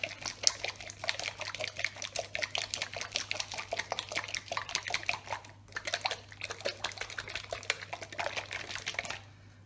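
A bottle of homemade vape e-liquid is shaken by hand to mix it, giving a quick, rapid sloshing rattle of liquid close up that carries on almost continuously with a few short pauses.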